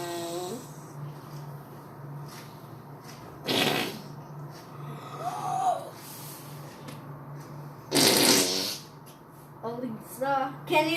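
A person makes mouth fart noises in a room, several loud sputtering bursts spaced irregularly, with a voice imitating the sound; brief talk and a steady low hum run underneath.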